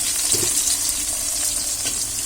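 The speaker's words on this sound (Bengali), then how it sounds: "দিয়ে দেবো পেঁয়াজ এইবার এটাকে নাড়াবো" Onion fries in very hot oil and gets stirred, producing a dense, loud, continuous sizzle with a few soft scrapes from the spoon, heard up close without any talking.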